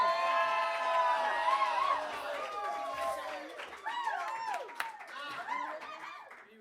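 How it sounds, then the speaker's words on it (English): An open mic audience claps and cheers for a performer named Lucy, a loud burst of applause that fades out over a few seconds while voices and excited chatter carry on close by. "And the crowd goes wild for Lucy!"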